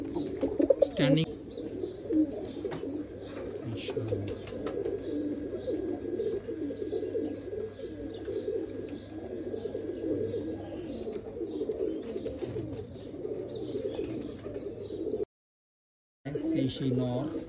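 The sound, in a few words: Oman Teddy pigeons cooing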